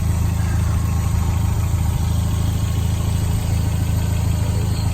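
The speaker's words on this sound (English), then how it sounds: "Good running engine." A 1994 Toyota Celica GT-Four Turbo engine idles steadily at close range, a constant low rumble with an even hum and no revving.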